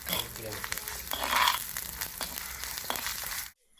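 Ginger and garlic sauté in a pan, a soft steady crackle and sizzle with faint stirring scrapes, running close for about three and a half seconds before cutting off abruptly.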